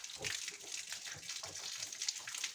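Water splashes and runs steadily over a young bull calf as it is washed with foamy suds in a village barn, a continuous close wet gushing with small bursts, no talking.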